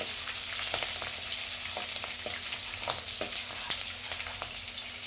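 Green chillies frying in a pan for capsicum chitranna, a continuous close hiss of hot oil with light crackles and occasional stirring ticks, no talking.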